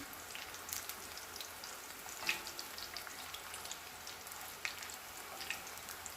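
Homemade tortilla chips fry in a pan for nachos, a faint, steady crackling sizzle with occasional sharper pops.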